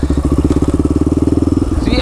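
Sport quad ATV engine revving off-road, a loud, steady pulsing motor drone with rhythmic throbbing that holds close and continuous before easing slightly near the end.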